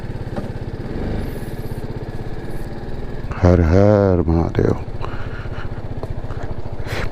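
Motorcycle engine rumbling steadily while riding down a steep hill toward the Narmada riverside forest, with a louder surge partway through and a voice calling out over it.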